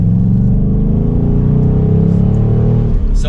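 A 2024 Ford Mustang GT Convertible Premium, driven with the top down, gives a loud, close, steady engine drone whose pitch slowly rises under acceleration. No voices are heard.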